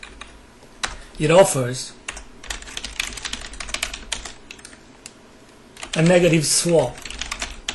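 Fast clattering of a computer keyboard, steady close keystrokes running under a voice that talks in two short bursts.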